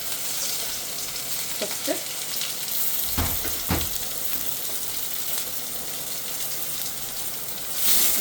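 Ginger, garlic and green chillies frying in a pan for Kerala-style nadan chicken curry, a steady close sizzle with a few scraping stirs, and a brief spoken word near the end.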